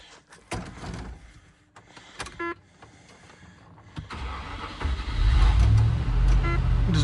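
Barn-find Range Rover P38 with a V8 engine, heard running rough after being revved: uneven low rumble that surges and swells loudly near the end, with clicks and mechanical knocks early on, close by and without talk.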